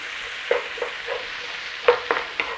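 Black beans fried with a little sugar in a hot pan, a steady sizzle broken by several sharp scrapes and knocks of stirring, close and with no voices.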